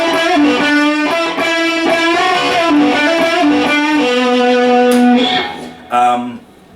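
A Warmoth Jazzmaster electric guitar played through its bridge pickup on the lead circuit with heavy distortion, sustained chords and notes ringing loud and harmonically rich, then cutting off with a brief final strum and a few seconds of fading tail.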